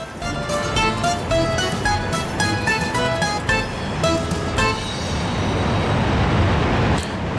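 A heavily loaded freight train of about 1,572 tons rolls steadily in the Soviet Republic video game, giving a continuous rumbling roar with rhythmic clacking and tonal whine that grows into a denser wash toward the end.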